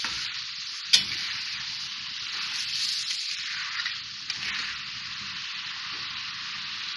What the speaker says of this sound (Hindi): मैंने चिकन को फ्राई कर लिया, इसका कलर चेंज हो गया और उसको तेज आंच पे ही करते हैं।